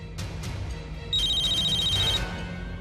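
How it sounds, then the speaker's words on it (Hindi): A bright electronic phone ringtone chimes in a steady repeating pattern for about a second, over low background hum. "आ गया फोन।"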